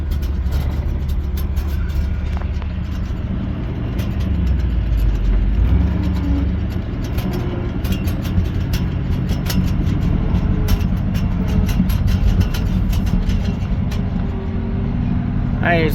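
A 1967 Chevy C40 truck engine pulls a fully loaded trailer in first gear, a steady low, heavy rumble holding throughout, with small pitch shifts as it labours along and a voice speaking over it.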